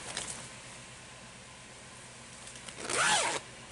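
A zipper pull slid along a clear plastic zippered storage bag gives one short, close rasping zip near the end, after a quiet stretch with a faint rustle at the start.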